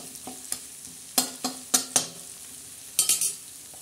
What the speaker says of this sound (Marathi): आता छान असं तडतड करत आहे बघा